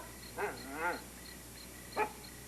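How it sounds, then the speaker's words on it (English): A hound dog gives three short barks and yips, the middle one drawn out into a whining howl, close and fairly clear over a quiet background hum. "one intelligent hound dog"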